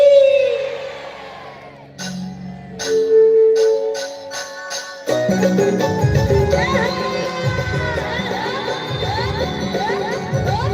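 Crowd at a live Chhattisgarhi folk music program cheering and shouting together in praise, a burst of collective voices rising over loud music with drums and singing that continues throughout.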